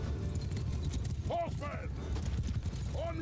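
Cavalry hooves clop rapidly across a medieval battlefield in Mount & Blade II: Bannerlord, mixed with horse snorts and battle din under steady background noise.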